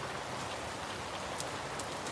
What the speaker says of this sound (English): We're getting a lot of rain.